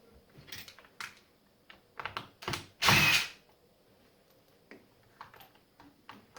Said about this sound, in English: Just taking the cable clamp off.